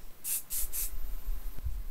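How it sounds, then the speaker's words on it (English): Hairspray from a can misted onto a big top bun in three short, even bursts, close and crisp, followed by a low bump near the end. "take your hairspray and then spray down the big old bun"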